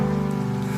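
Steady rain falling on a surface, a dense even hiss with low rumble running continuously at constant level, alone with no voices.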